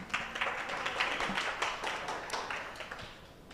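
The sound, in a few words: audience applause for a presenter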